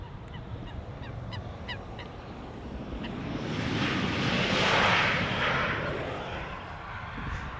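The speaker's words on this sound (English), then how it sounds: "in the meantime, Embraer 190s are landing here" An Embraer 190 lands at Schiphol Airport, its engine roar swelling to a broad peak as it passes and then fading. A few faint honking calls come early on.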